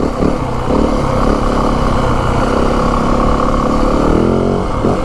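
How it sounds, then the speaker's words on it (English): Yamaha WR 450F dirt bike on a trail, its engine droning loud and continuous with rising and falling revs, close up and without speech. "I'll let you guys listen to the bike for a couple minutes"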